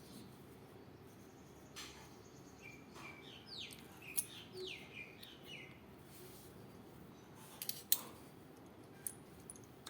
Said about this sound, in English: we are going to scrape off all the unnecessary yarn by cutting off with the scissors.